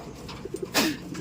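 A young racing pigeon gives a soft, close coo, with a few faint clucks just before it.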